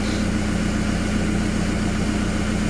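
An Antonio Carraro Tony TR10900 tractor engine idles at lowered revs, giving a steady, close low-pitched drone with an even mechanical hum and vibration throughout, no voices.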